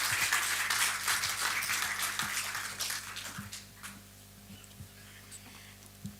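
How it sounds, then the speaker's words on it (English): Applause from an audience at a business conclave welcoming a guest to the dais, dense clapping that gradually thins out and fades to scattered claps over a low steady hum. "With a huge round of applause, let's welcome Mr. Pathak to the dais."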